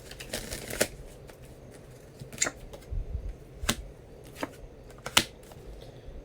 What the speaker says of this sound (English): So I'm going to throw down another 2 cards over Bill.